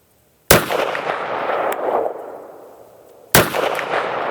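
Two sharp, loud pistol reports from a Walther WMP rimfire pistol aimed at a 100-yard steel popper target, spaced about three seconds apart, each followed by a lingering outdoor echo and decay.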